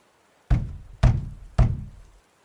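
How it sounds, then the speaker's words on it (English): Three loud, evenly spaced knocks on a wooden stable door, each a sharp thud with a brief ringing decay, heard alone in quiet. "A sudden, loud knock on the stable door startled him."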